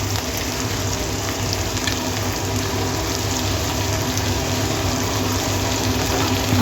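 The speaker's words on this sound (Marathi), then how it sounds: "आता हे छान प्रकारे ब्राऊन होईस्तर कांदा हलवायचा आहे चांगलं व्यवस्थित" Onion, garlic and green chili fry in a pan with a steady, dense sizzle that holds evenly at close range throughout, with no voices over it.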